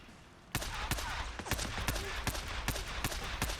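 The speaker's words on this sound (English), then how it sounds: "Oh, there's the heavy MG." Heavy machine gun in Days Gone firing a burst of about eight rapid, loud shots with sharp cracks, after a quieter stretch of background.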